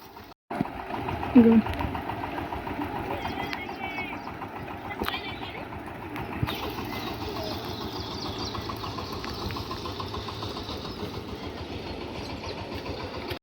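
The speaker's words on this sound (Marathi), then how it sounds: "आपल्या शेतात आता ट्रॅक्टर धरलेला आहे पाण्यावरचा" A tractor engine working a flooded paddy field runs steadily and continuously, a close mid-pitched mechanical drone with rhythmic knocking, while voices talk intermittently over it.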